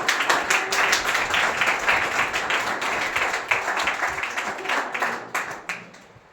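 Clapping from a gathered crowd at a Delhi CSR event, dense rapid claps sustained throughout at steady loudness, tapering slightly at the end.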